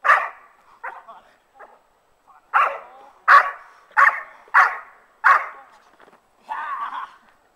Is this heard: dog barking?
yes